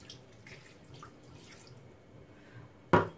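A small glass of saffron water is tipped into a pressure-cooker pot of Marrakech tanjia, making one brief, sharp splash at the end after a quiet stretch.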